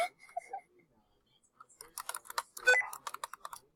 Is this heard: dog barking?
no